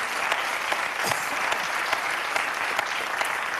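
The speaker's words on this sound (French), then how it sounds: "vous pouvez l'applaudir d'ailleurs" Steady applause from a studio audience, dense clapping throughout at an even level, with no talking over it.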